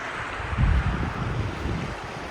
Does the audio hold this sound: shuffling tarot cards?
no